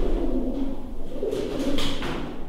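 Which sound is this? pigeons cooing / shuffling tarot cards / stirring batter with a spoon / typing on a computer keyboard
pigeons cooing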